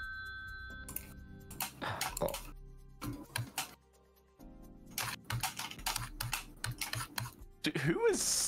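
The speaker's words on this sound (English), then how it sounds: "Who is slapping like their keyboard?" Someone hammering hard on a computer keyboard, bursts of sharp rapid clacks in uneven clusters with pauses between, close and fairly loud, with talk heard alongside.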